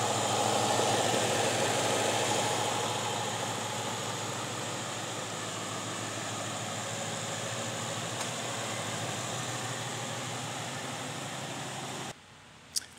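A stock 2017 Ford Mustang GT Premium idles steadily in a continuous, even hum that eases slightly after the first few seconds, then cuts off abruptly near the end.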